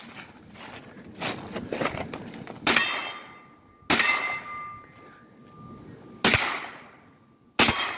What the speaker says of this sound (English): When you see the target, shoot them.